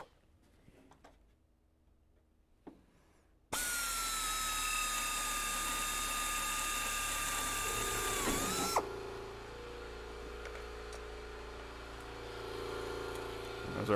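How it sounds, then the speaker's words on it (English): Workshop air compressor starts abruptly after a quiet stretch, running as a loud steady mechanical drone with a whining tone, then dropping to a lower continuous hum as it settles. "There's our compressor on"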